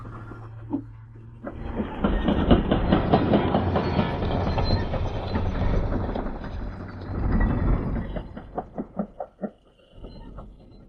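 A train on a railroad turntable in the Polar Express video game gives a steady, loud, close rumble with clattering wheel noise. Toward the end it breaks into a run of distinct rhythmic clacks, and no one talks.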